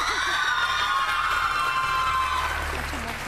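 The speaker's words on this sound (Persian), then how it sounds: "تشویقشون کنید." A studio audience at an Iranian pantomime quiz show claps and cheers in a steady, dense wave with scattered whoops, holding loud for about three seconds before easing slightly.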